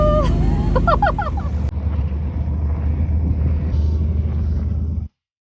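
Red cars pulling away at a drag race, a loud steady engine rumble that carries on for about five seconds and then cuts off abruptly, with brief chirping tones near the start.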